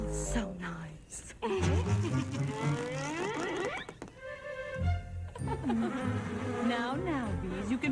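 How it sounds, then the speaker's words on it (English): Bees buzz in a cartoon scene, with wavering insect whines that rise and fall alongside musical tones and voices throughout. "Now, bees, you can pollinate Fern later."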